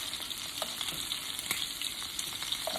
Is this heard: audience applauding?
no